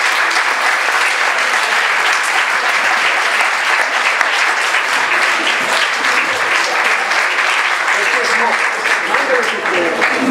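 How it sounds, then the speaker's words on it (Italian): Sustained applause fills a conference hall at a Capuchin friars' missionary convention in Recanati, a dense, steady crowd clapping that stays loud throughout, with faint voices mixed in. "Che vogliamo accogliere con un grande applauso."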